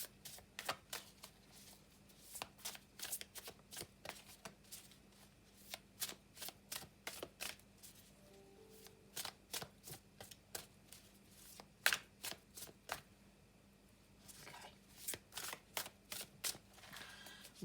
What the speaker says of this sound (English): I'm just going to have a little shuffle of the Witch's Wisdom deck